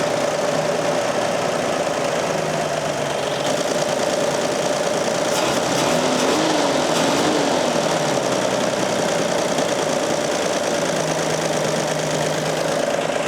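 A Toyota FJ40 engine running on its first start after a fuel fill, a loud, close, continuous rough idle with a knocking, uneven tone that holds steady throughout without speech.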